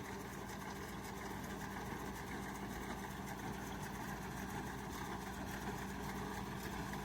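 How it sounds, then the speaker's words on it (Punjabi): A heavy tractor-driven farm machine engine drones steadily and loudly throughout, a constant straining mechanical roar with no pauses or voices, the machine repeatedly choking. "ਵਾਰੀ ਵਾਰੀ ਚੋਕ ਹੋ ਰਹੀ ਆ ਟਰੈਕਟਰ ਤਾਂ ਬਥੇਰਾ ਵੱਡਾ ਪਰ ਮਸ਼ੀਨ ਦੀ ਪੇਸ਼ ਨਹੀਂ ਚੱਲਦੀ"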